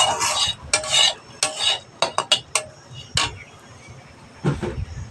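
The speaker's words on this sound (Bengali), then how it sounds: "হাফ চামচের মতো হলুদ গুঁড়ো দিয়ে দিলাম, সামান্য একটু তেল দিয়ে দিলাম, সামান্য। এবার একসঙ্গে মাখিয়ে নেব।" Lentils being mixed by hand or spoon with turmeric powder and a little oil in a pot, giving a series of short scraping, stirring scuffs in bursts, close and fairly loud, with no talking.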